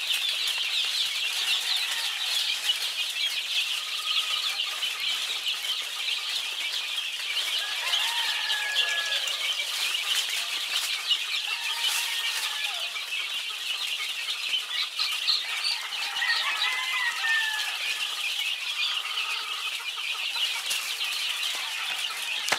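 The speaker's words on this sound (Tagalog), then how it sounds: "Malaway talaga yung sisiw na yan. Nanguupak na naman." Young chicks in a coop make soft chirps and clucks among repeated bursts of wing flapping and scuffling, with steady close-up rustle throughout and no talking.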